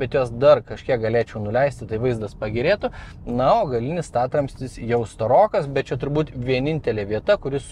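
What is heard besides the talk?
No everyday noises stand out.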